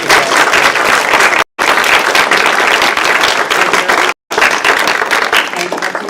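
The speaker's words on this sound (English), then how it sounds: "We'll finish off with a huge round of applause for all of the groups who presented tonight" Audience at a science award evening giving a big round of applause for the presenting groups, loud dense clapping close by, broken by two very short dropouts.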